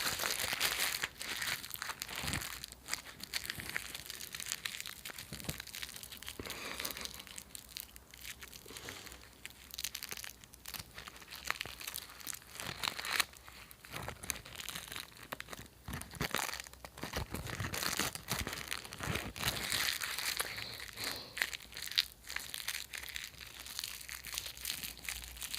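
Candy wrappers and instant noodle packaging are crumpled close up, giving steady, dense crinkling and crackling that goes on unbroken with no talk.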